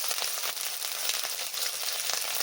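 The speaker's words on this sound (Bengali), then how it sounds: "পেঁয়াজ হালকা মতো কষিয়ে নিয়েছি দিয়ে দিচ্ছি হাফ চামচের মতো জিরা বাটা হাফ চামচ আদা বাটা" Cumin paste and ginger paste sizzle with lightly browned onions in a pan for Bengali rui fish tok, a steady close crackling hiss with no break.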